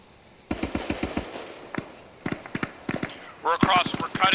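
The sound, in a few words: gunfire during an airsoft field exercise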